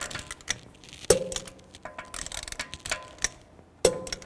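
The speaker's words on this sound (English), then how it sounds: "Now I'm just going to torque these lug bolts to 110 foot-pounds" A torque wrench tightens lug bolts on a 2004–2010 BMW X3 front wheel, giving sharp metallic clicks and ratcheting ticks at uneven intervals, with two louder snaps standing out.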